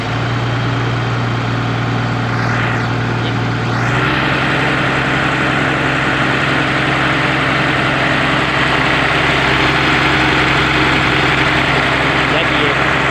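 A PC200 excavator engine runs steadily at a workshop, a loud continuous diesel drone with a low hum that shifts slightly in tone after a few seconds, without talk.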